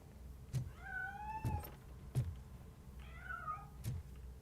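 A cat in the video game Robocop: Rogue City gives two drawn-out meows, fairly faint, with a few dull thuds scattered around them.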